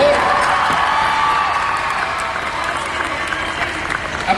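Studio audience at a Mexican live entertainment broadcast applauds and cheers a telenovela actress, a dense, steady wash of clapping with scattered whoops and crowd voices throughout.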